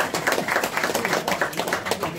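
Audience applauding the prefect at a crowded political group's New Year address in Dijon, a dense steady patter of many hands clapping in a hall, moderately loud throughout with faint voices mixed in.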